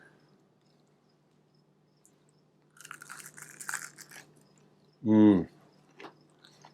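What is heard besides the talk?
crunch of biting into a fried green tomato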